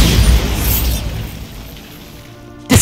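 Bombarda blasting spell from the Hogwarts Legacy video game going off as a loud rumbling explosion that fades out, then a sharp burst at the end, with no talking.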